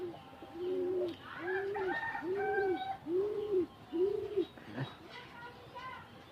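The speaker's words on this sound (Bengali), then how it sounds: "শখের বসে কবুতর পালন করি।" Pigeons kept on a rooftop coo close by in a regular run of five low, rounded coos, followed by softer chirps and scattered bird calls.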